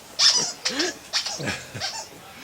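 A pheasant held in a lurcher's mouth gives harsh, strained squawks and rasping cries in a series of bursts, fairly close and loud.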